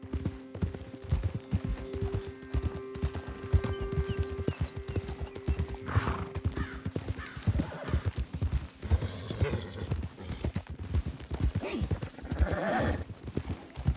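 Horse hooves clip-clopping in the video game Red Dead Redemption II, a steady rapid trotting rhythm throughout, with occasional snorts and game sounds mixed in.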